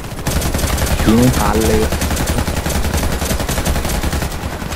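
Gunfire in the online shooter Warface, with dense rapid automatic bursts that keep up throughout over busy game sounds, while someone speaks briefly near the start.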